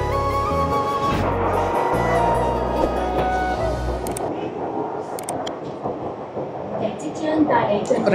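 A train rumbles into a Disneyland station with a deep, loud low drone that cuts out midway, followed by clattering and bustling noise, with voices around.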